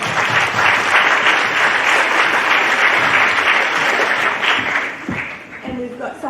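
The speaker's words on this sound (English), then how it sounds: "Give her a round of applause." A crowd at a National Science Week talk on Einstein's universe claps loudly and steadily for a prize winner, with some voices under the clapping as it fades toward the close.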